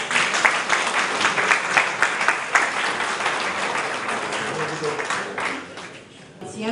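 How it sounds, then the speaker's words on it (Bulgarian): Sustained applause from an audience at a folk music concert, loud and dense throughout, with clapping tapering slightly near the end. "Аплодисменти."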